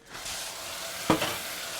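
A spatula scrapes across a pan while food sizzles softly, a single brief scraping stroke standing out over a faint steady frying hiss, close by.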